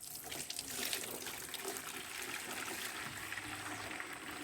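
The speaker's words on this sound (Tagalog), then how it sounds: "Kaya i bubuhos na." Mixed mango fertilizer solution, soapy-looking once stirred, pours in a steady, quiet stream of splashing liquid for about four seconds, with no voices.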